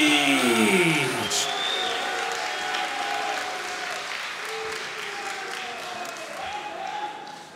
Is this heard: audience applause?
yes